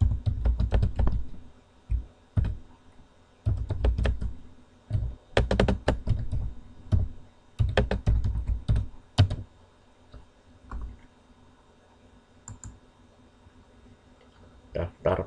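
Bursts of typing on a computer keyboard, clattering key taps in quick clusters separated by pauses, close and distinct, with occasional heavier thunks of individual keys.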